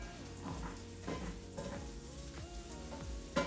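Garlic fries in a pan for a burrata frittata, a soft, close sizzle broken by stirring scrapes and a brief clatter at the end, with no voices.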